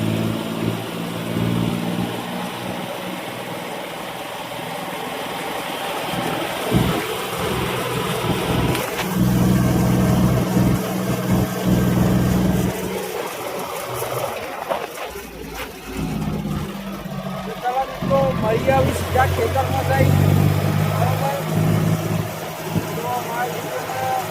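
A steady, loud tractor engine drones throughout during guar sowing in a field, rising and falling slightly in pitch, with a low rumbling idle and mechanical rattle.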